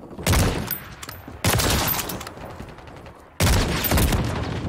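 Incoming gunfire in the Modern Warfare 3 video game, three loud heavy bursts of rapid shots arriving close together, each cutting in abruptly and rattling on for a second or two.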